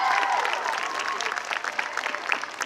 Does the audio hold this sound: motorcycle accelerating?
no